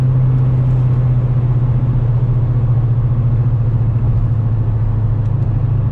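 Mercedes E55 AMG with a bigger throttle body and long-tube exhaust accelerating hard in first gear, a loud, steady, deep engine drone that fills the whole stretch without letup, heard from inside the car with no talking.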